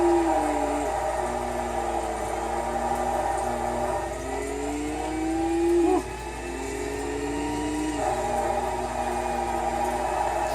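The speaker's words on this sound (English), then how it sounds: "Hear that turbo? Somebody has a big giant turbo kit." A turbocharged Nissan Skyline fitted with a big turbo kit revs in the Forza racing game, its steady engine drone and rising turbo whine swelling and falling, loud and close throughout.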